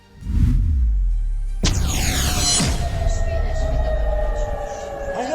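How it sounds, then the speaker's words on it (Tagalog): Air raid sirens sounding in parts of Israel; a loud rising wail with sweeping harmonic tones, then a sharp burst of broadband noise and whooshing, with the siren drone continuing underneath. "muling umalingaw-ngaw ang mga sirena sa ilang bahagi ng Israel"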